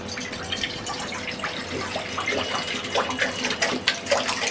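Milk pours into a cake mixture in a steady, close, liquid trickle with soft splashes and drips.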